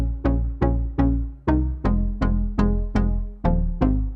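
A Serum synth pluck recreating a riff, a steady rhythmic sequence of about a dozen short, bright plucks with quick decays and a deep low end, close and alone.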